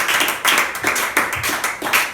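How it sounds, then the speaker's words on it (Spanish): Congregation applause at a church service, a dense burst of clapping swelling in repeated waves, fairly close and loud throughout, with no talking over it. "Denle un aplauso a Jesús."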